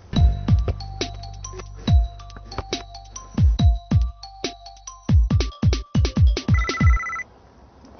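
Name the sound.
Sonim XP1 phone ringing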